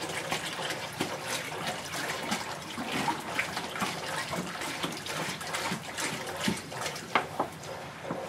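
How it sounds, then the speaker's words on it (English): New salt water is poured into an aquarium sump during a saltwater water change, a continuous splashing, gurgling flow with small bubbling bursts, close and steady. "So now as that water lowers, I'll start putting in some of my new salt water."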